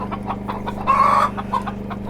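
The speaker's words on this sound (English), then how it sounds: "Okay, chickens." Chickens clucking over a steady low hum, with one louder drawn-out call standing out in the middle of the flock's chatter.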